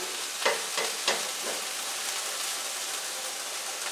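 Pork chops frying in a pan over medium heat give a steady close sizzle and crackle, with a few brief louder pops and spatters near the start.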